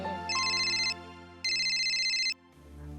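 A phone ringtone for an incoming call sounds in a Bhojpuri serial scene, with two loud bursts of high trilling tones over a sustained low backing note, close and clear with no talk.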